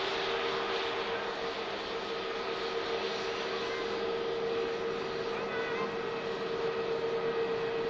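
An Airbus A321neo jet taxiing past at Manchester Airport, a steady distant engine drone with a sustained whine, constant in level throughout.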